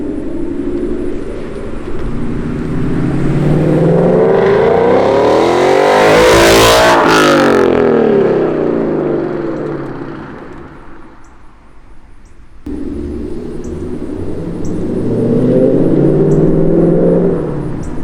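A 2020 Mustang GT V8 with a Borla ATAK aftermarket exhaust revs hard with a deep, throaty exhaust roar that rises to a peak, drops off, then builds again.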